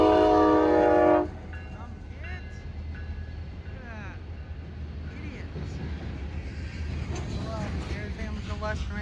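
A CSX freight and a Hamilton Northwestern Railroad train run past each other, a loud horn blast opening before the steady rumble and clatter of rolling cars carries on, with people talking over the passing trains.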